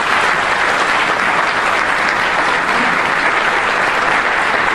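An audience at a winter meeting claps steadily in warm, sustained applause, fairly loud and even throughout with no voices over it.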